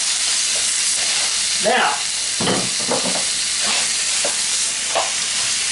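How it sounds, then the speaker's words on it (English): Sausage browning in a pan for sausage gravy gives a steady, close sizzling hiss, with a few stirring scrapes. Someone talks over it the whole time. "So I'm going to start by browning some sausage"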